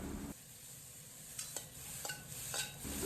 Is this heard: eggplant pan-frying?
yes